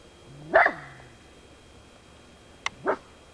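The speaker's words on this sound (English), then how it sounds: "I'm recording Melvin and barking" A dog gives a loud, close bark, then after a pause a short yip and a second bark, in a quiet indoor room.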